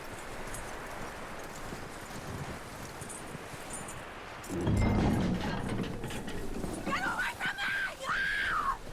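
Steady clip-clop of horse hooves runs through a Red Dead Redemption 2 game scene, with voices and shouts rising over it partway through.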